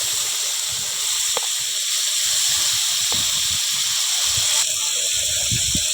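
Paneer frying in a pan during outdoor cooking: a steady loud sizzle and hiss throughout, with a few faint clinks and low movement sounds underneath.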